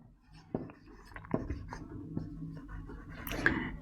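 A pen writes on paper in short strokes and taps, close to the microphone and faint. Light background noise runs underneath, and there is no talk.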